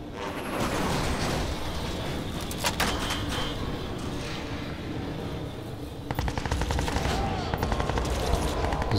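A heavy machine gun fires in the video game Crysis 2, loud sustained bursts of rapid shots with a denser, sharper volley near the end, close and dominant over game ambience.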